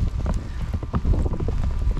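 Strong northwest wind gusting across a harbor as a fishing boat is tied up in its stall before a storm, heard as loud, continuous low buffeting rumble with no talking.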